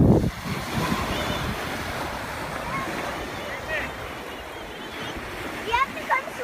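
Ocean surf breaking on a beach on North Captiva, a steady loud wash of waves with wind buffeting the microphone and people's voices calling out over it.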